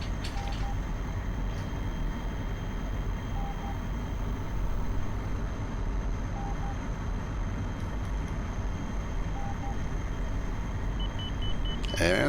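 An outer marker beacon in a MiG-21 flight sim sounds as short, evenly spaced tones repeating about every three seconds, faint beneath a constant loud engine and cockpit drone.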